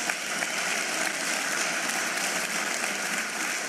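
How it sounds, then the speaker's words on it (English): A dense, even wash of audience applause at a matric results announcement, steady and unbroken for a few seconds with no voices over it. "Let's give government a big hand of applause."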